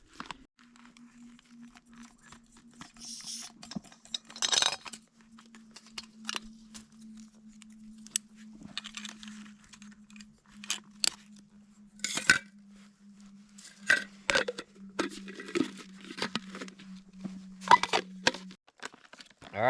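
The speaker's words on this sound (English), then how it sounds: "Give that a nice stir." A spoon stirs a Mountain House breakfast skillet meal in its pouch outdoors, with scattered scraping, crinkling and clinking bursts over a faint steady hum.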